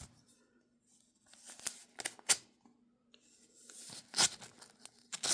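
A paper envelope torn open during a WW1 and WW2 militaria unboxing: several short, dry ripping bursts at close range, separated by quiet pauses, with a faint steady hum underneath.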